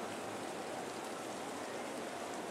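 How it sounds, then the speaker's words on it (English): Light rain falling steadily on a baseball field during a rain delay, an even soft hiss of drops with no pauses, quiet and continuous with no voices. "A light rain is falling here at Evermore Field, and the grounds crew has brought out the tarp."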